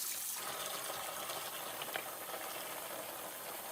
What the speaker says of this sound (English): I'm going to let that fill to the point that I want it before submerging my items.